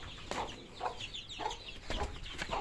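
Roosters and hens cluck in short, sharp bursts, several calls in quick succession, close and moderately loud over a quiet yard.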